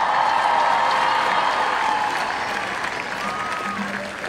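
Crowd applauding and cheering at an outdoor climate strike rally in Iowa City, steady dense clapping with scattered whoops, loud and continuous, easing slightly toward the end.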